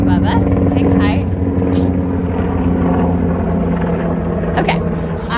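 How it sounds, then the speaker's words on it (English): A military helicopter passes overhead above a garden, producing a loud, steady engine drone with a low rotor hum that fills the whole span. A person speaks over it. "there's a military helicopter above us."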